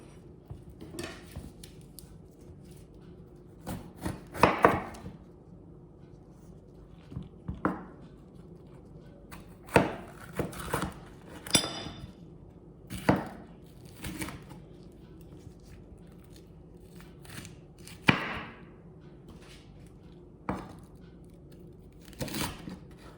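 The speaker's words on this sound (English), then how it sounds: "Then let's cut the chili into small squares." A knife chops chili into small squares on a cutting board, giving a run of sharp, irregular taps and knocks, some clustered and some spaced apart, close and moderately loud with no talking.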